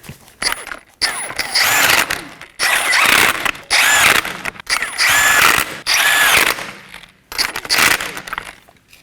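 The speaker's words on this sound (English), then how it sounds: "I'm going to snug these down in a crisscross pattern." A power tool whirs in repeated short bursts as 21mm lug nuts are snugged down in a crisscross pattern on a 2015-2023 Nissan Maxima wheel, about seven loud close runs separated by brief pauses, no talk.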